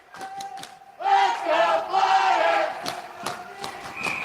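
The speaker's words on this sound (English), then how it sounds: "Crowd is alive and well and ready to get some youth hockey underway." A crowd at a 12U youth ice hockey game cheers and shouts in a loud, sustained swell that rises after a quieter start, with scattered sharp knocks and individual voices around it.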